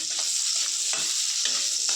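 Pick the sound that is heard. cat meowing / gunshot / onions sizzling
onions sizzling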